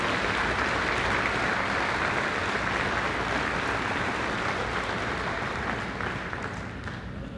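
A large audience applauds teachers at a school gathering, a dense, continuous roar of clapping that holds steady throughout and eases slightly near the end, with no talking over it.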